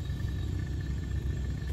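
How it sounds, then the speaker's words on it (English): A steady low electric whir with a faint high whine, droning evenly and close without pause: the noisy fuel pump of a Grumman AA-5B Tiger light aircraft in a flight simulator. "That's a noisy fuel pump."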